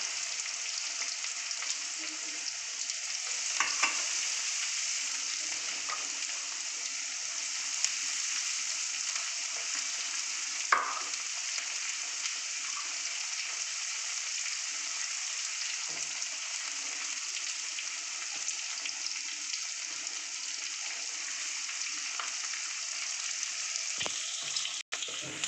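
Garlic and green chilies fry in hot oil, making a steady broad sizzling hiss that stays close and constant. A few faint clicks and taps of a utensil against the pan break through now and then. No one speaks.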